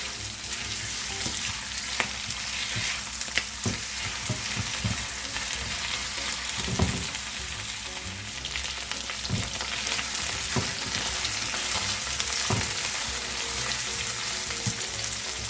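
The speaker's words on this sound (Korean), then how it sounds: "기름을 평소보다 약간 넉넉하게 둘렀다 생각하고 이렇게 저어주시면 됩니다." Vegetables, including carrot, stir-fried in a generous amount of oil for jjamppong make a loud, continuous crackling sizzle, broken by repeated scraping and clacking of stirring in the pan, with no talking.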